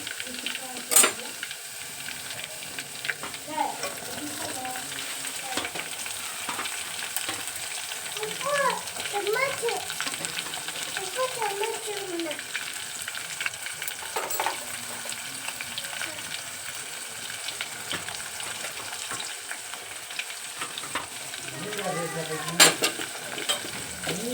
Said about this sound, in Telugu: ఇప్పుడు ఉల్లిపాయలు వేసేసుకున్నాము.